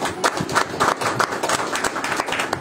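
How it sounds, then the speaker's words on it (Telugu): A church congregation applauds to welcome a preacher, with loud, rhythmic clapping from many hands close by, steady and without talk. "గట్టిగా చప్పట్లు కొట్టాలి."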